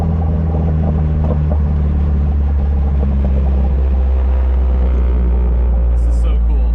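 Deep, steady rumble of a forged 1.6-litre compound-turbo Miata engine heard from the cabin while driving, loud and continuous, with a short high chirp near the end.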